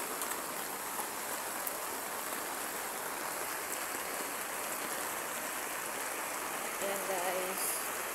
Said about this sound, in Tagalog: Ito kami nagpapabasa sa ulan.